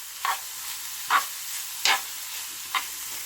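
Onions and carrots sautéing in oil in a pan, stirred with a few distinct scraping strokes spaced about a second apart over a low, steady background hiss.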